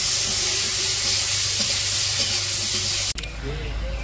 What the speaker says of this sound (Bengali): এখন বেগুন ভাজি করতেছে